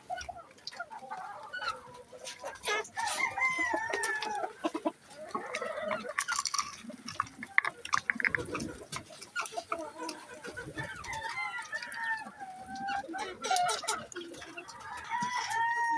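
A young rooster, a bull stag, crows repeatedly and clucks between calls, close and clear over a rural backdrop, with other fowl and a faint voice now and then.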